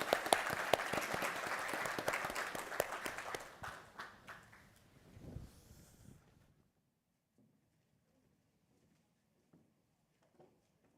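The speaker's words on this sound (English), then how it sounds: "how about another round of applause for our fantastic panels?" Audience applause for a panel at a conference session, loud sustained clapping for about four seconds that thins out and fades, followed by near silence with a few faint sounds.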